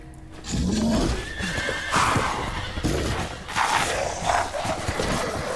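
Horses in the Resident Evil Village video game neigh loudly in a burning village, with repeated whinnies over clip-clop hoofbeats and a busy, chaotic background.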